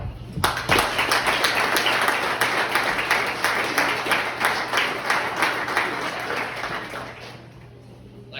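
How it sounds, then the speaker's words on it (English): Crowd applause at a wrestling hall of fame ceremony, a sharp loud start followed by sustained clapping that gradually tapers off, with a low steady hum underneath. "So I want to give yourself a round of applause right now."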